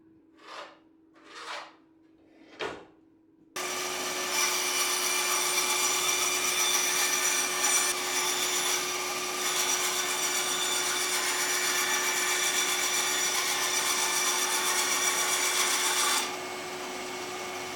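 Three quick strokes open on the wooden longboard blank before a power saw starts up and cuts the board's shape in a loud, continuous buzzing run lasting around twelve seconds, then winds down.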